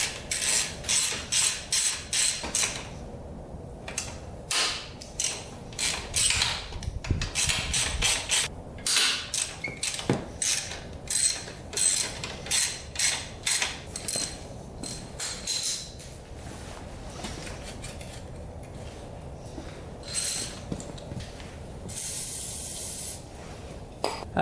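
Loosening exhaust pipe bolts on a Yamaha Warrior 350 ATV, with repeated close ratchet clicks in short bursts separated by pauses and occasional faint metallic knocks, no talking.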